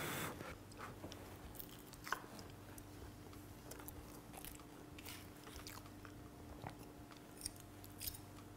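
Quiet biting and chewing of a green chile bean burrito with jalapenos, soft crunches and wet squishy chews recurring irregularly at close range, with no talking.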